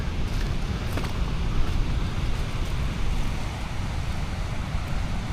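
Rough sea waves at a secluded beach on Eua, a continuous loud, broadband roar of surf mixed with gusting wind noise, steady throughout with no clear break between waves.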